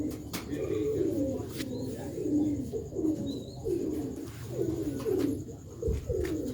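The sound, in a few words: Sialkoti black-faced pigeons cooing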